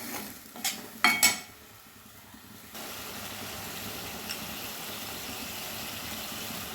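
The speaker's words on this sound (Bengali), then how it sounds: "এবারে একসঙ্গে আমি 5 মিনিট সময় নিয়ে গ্যাসের ফ্লেম মিডিয়ামে রেখে মশলাটা কষে নেব" Ground spice paste sautéing in a pan over a medium gas flame for a tomato fish curry, a few sharp metal clinks and scrapes at first, then a low steady sizzle carrying on quietly.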